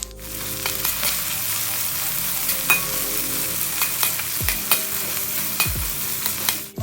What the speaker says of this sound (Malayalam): ഇനി നമുക്ക് നമ്മുടെ ക്യാപ്സിക്കം ആഡ് ചെയ്ത് കൊടുക്കാം